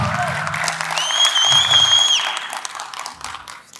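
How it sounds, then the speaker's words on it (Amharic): An audience claps together in a hall, a loud wash of applause with a shrill whistle rising over it and a few voices mixed in, then thinning out. "ስለዚህ አንዴ ሁላችሁ ጭብጨባ"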